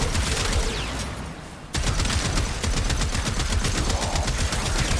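Relentless full-auto weapon fire from the Warframe video game, a dense rapid stream of shots that briefly drops out near the start, then resumes loud and continuous to the end.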